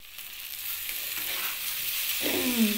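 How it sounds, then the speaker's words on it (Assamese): Ground sesame being stirred and fried in a pan, a steady soft scraping with a sizzle that grows louder toward the end, close up with no talking. "তিলখিনি দিয়ে আৰু ভাজি আছোঁ"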